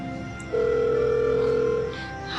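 A single steady telephone tone from a call that fails to connect sounds for over a second over faint background noise, with no ringing or answer following.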